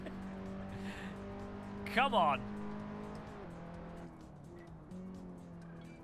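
The engine of a Skip Barber race car drones steadily in Assetto Corsa, its tone shifting as the car is driven, with a brief tire squeal midway. Someone talks over it.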